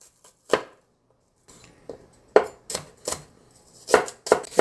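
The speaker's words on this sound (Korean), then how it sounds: "양파 반 개만 쓸게요. 너무 굵지도 얇지도 않게." A knife cuts half an onion on a cutting board, with about eight sharp, close chopping strokes in an uneven rhythm and short pauses between them, and no talking.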